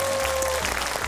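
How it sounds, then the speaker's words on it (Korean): Studio audience applauding on a Korean talk show, a short burst of dense, uniform clapping that stays loud from start to finish. "다시 한번 박수 부탁드립니다."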